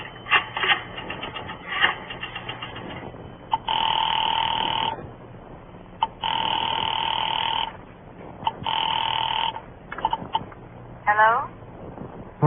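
Telephone bell in an old-time radio drama rings in three long, loud bursts, each about a second or more, with shorter clicks and rattles between them and quiet room tone underneath.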